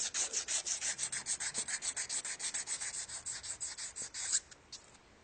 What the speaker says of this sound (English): Clean the shaft.